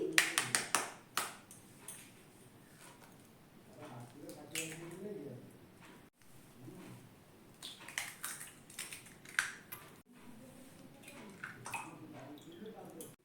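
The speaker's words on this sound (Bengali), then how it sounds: "এবার তিনটে ডিম আমি পরপর ফাটিয়ে নিচ্ছি" Three eggs are cracked one after another onto a plate for egg paratha, giving a few close, sharp taps followed by soft wet squishes, with a quiet voice speaking in between.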